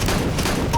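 Dense gunfire from Counter-Strike: Global Offensive forms a continuous loud burst of overlapping shots, with no pause between them over the brief moment.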